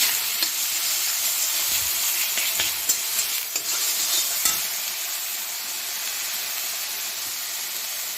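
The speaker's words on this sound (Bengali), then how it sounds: "এটাকে ভালো করে কষিয়ে নিই" Grated onion with dried chilli powder and fresh green chillies fries in a pan for a thin egg curry, giving a steady, loud sizzling hiss broken by scattered utensil scrapes and stirring clicks early on, then settling into an even sizzle.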